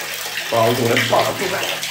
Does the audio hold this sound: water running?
yes